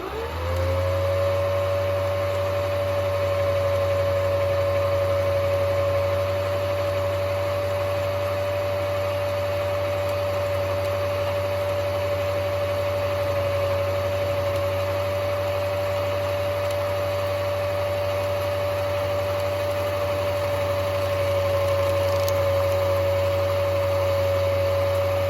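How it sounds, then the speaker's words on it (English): A sewing machine winding a bobbin holds a steady, unbroken motor whine with a low hum underneath, close and even for about twenty-five seconds. "And I absolutely love doing bobbins."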